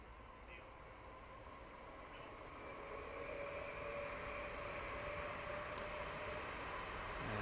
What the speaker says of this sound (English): As another train comes through and lose the ability to hear yourself think for a brief moment.